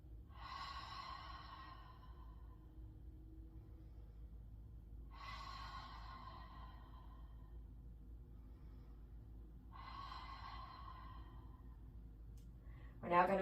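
Slow deep breaths during a gentle vinyasa yoga session, three long airy exhalations spaced about five seconds apart over a quiet low hum, close and soft.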